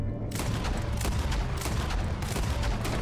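Dense, continuous gunfire from Red Dead Redemption 2, a rapid fusillade of overlapping shots that stays loud and steady throughout, with no pause between bursts.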